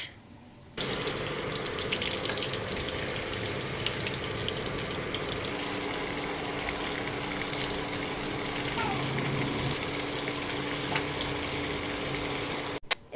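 Small puti fish frying in hot oil, a continuous, even bubbling sizzle at moderate volume that holds steady for several seconds, with faint kitchen clatter in the background.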